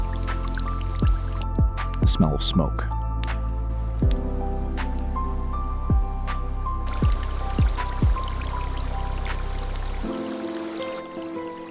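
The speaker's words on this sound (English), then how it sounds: "The sound of water." Water drips in a rustic forest cabin, with single drops falling one by one at an uneven pace over a steady background hum, close and clear; a voice speaks briefly partway through.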